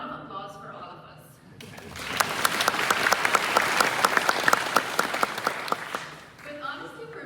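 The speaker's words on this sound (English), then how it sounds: "This deserves a round of applause for all of us." Audience applause at a Lund University School of Economics and Management graduation ceremony swells up after a short spoken line, crisp individual claps standing out in the thick clapping, then fades as talking resumes.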